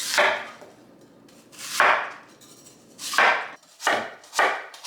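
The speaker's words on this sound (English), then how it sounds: "Doesn't really matter how you cut them as long as you get that core out of there." A kitchen knife chopping peeled apples for apple butter on a cutting board, giving five or six separate crisp cuts spaced roughly a second apart, close and fairly loud with no talking.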